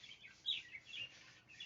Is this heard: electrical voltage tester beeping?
no